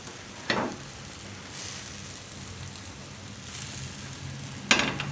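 A strawberry pancake frying in oil in a pan over medium gas, giving a steady soft sizzle throughout with a couple of sharper brief hisses, no voices.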